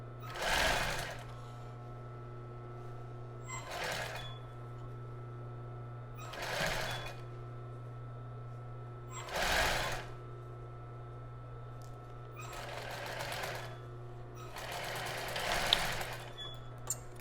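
Sewing a child's bra, a sewing machine whirs in several short bursts of stitching, including a brief reverse, with a constant low hum between runs.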